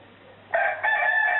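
A synthetic rooster crow rings out from a Cobolt Speechmaster T-10 talking alarm clock, starting abruptly after a brief quiet and continuing in a steady, bright call.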